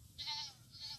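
A goat bleats twice in a quiet farm setting, two short wavering calls separated by a brief pause, faint and somewhat distant, with no speech.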